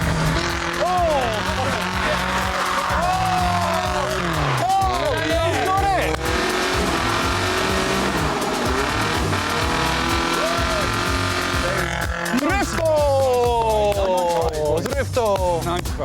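A drift car with a welded differential spins out on a race track, engine revving hard and tires squealing continuously and loudly, with a commentator talking over it.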